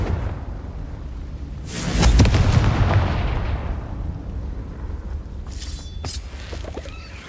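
A Confringo spell from the video game Hogwarts Legacy bursts with a loud explosive blast around two seconds in, followed by a long rumbling decay and a few faint sparkling effects near the end.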